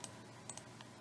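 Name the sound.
typing on a computer keyboard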